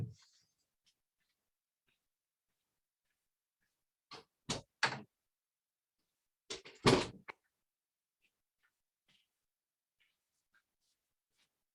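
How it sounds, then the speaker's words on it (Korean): A house door handled for a cat in a quiet room: a few separated knocks and thuds, a double clack around the middle, then a louder cluster of bumps as the door shuts, with near silence between. "저희 집 고양이가 있는 줄 모르고 문을 닫았네요."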